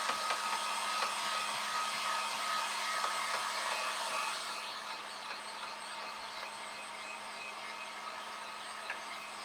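A hair dryer blows steadily up close, drying chalk paste on a mason jar, a constant airy whoosh that drops slightly in loudness about halfway through and continues alone.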